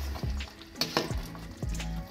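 Potatoes dropped into a pot of simmering lamb curry with thick gravy and stirred, giving a few soft thuds and scraping strokes over a low bubbling sizzle, close and moderately loud.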